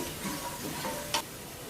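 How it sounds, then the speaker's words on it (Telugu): Onions fry in a pan with turmeric and coriander powder while being stirred, giving a quiet steady sizzle with a light spoon tap partway through. "యాడ్ చేసుకుని ఒక నిమిషం పాటు మిక్స్ చేస్తూ ఫ్రై చేసుకోవాలి"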